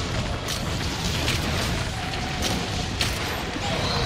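Dense, continuous rumble of sticky-ammo cluster blasts from a Heavy Bowgun in Monster Hunter, a steady wall of booming noise with a few sharper cracks and no clear gaps.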